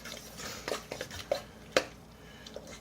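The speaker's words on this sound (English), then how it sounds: "I'm going to stir it up like crazy." Spoon stirring beef and grease into mayonnaise and whipped cream in a bowl, a quick, uneven run of clinks and scrapes against the dish, close and fairly quiet, with one sharper clack in the middle.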